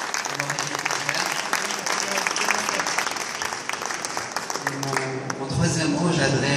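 An audience applauds a team with dense, sustained clapping that fills the room, a few voices rising over it toward the end.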